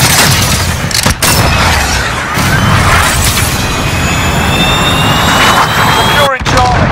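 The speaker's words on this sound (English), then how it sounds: "cruise missile away" A cruise missile launching in Call of Duty: Modern Warfare (2019) online multiplayer, heard as a loud, sustained jet-like roar with rumbling blasts and brief whooshes, and game voice callouts underneath.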